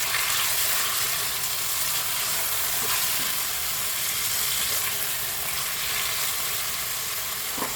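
Chicken pieces cooking in a pan with fried garlic, onion and ginger for tinola give a constant, dense sizzle and hiss that holds steady throughout, close and fairly loud with no talking.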